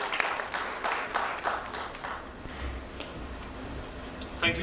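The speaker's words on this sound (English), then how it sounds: "can we have a round of applause for our Group CEO, Mr. Abrali Dalal." Scattered applause from the audience at a hospital launch event, uneven clapping rising and falling over a few seconds with some individual claps standing out.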